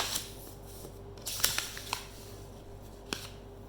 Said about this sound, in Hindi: चलो पेज चेंज करते हैं